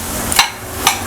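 A spicy puffed rice mixture is stirred in a pan, giving two brief, fairly close scraping rustles about half a second apart over a quiet background.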